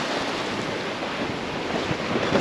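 Choppy, closely spaced waves on Lake Erie ahead of bad weather, heard as a steady loud wash of surf with wind buffeting the microphone throughout, no voices.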